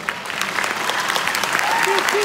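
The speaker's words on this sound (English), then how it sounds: "let's give them a round of applause" An audience at a junior high school choir and band concert breaks into steady, full applause that swells slightly, with a voice or two calling out over the clapping near the end.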